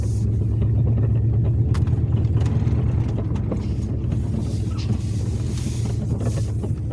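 Car engine while driving slowly and parking at a gas station, a low steady rumble close by with faint road noise and light rattles, no talking.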